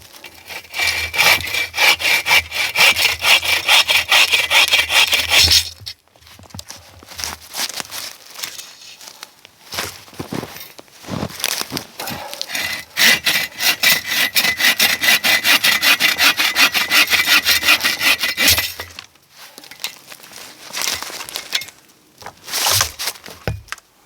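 Hand sawing through a felled tree to make firewood on a snowy day, with long stretches of steady rhythmic back-and-forth strokes, a short pause, then another sustained run of close, loud cutting.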